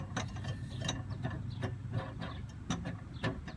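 The securing screw of a car's spare tire is being unscrewed, producing a run of faint, irregular metallic clicks and ratcheting ticks. The sounds are quiet and close, over low background rumble.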